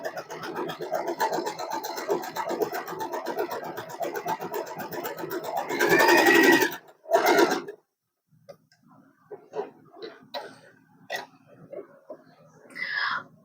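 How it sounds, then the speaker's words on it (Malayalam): An Usha Allure DLX sewing machine runs a short stitching burst, with a steady rapid ticking mechanical rhythm at moderate level, followed by a pause and then scattered small clicks and knocks from handling the fabric. "സ്റ്റിച്ച് ചെയ്ത് കാണിക്കാം"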